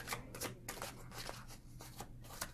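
Tarot cards being shuffled in quick riffling bursts, a rapid crisp flutter repeating several times at close range with no talking.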